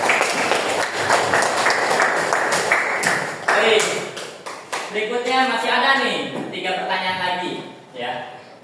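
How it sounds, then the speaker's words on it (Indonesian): Classroom applause for a student, dense clapping for the first few seconds, then children's excited voices and chatter take over. "Tepuk tangan buat Najib."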